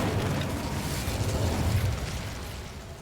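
An Incendio fire spell cast in the Hogwarts Legacy video game bursts out as a loud, sustained rumbling whoosh of flame lasting about three seconds and fading slightly at the end.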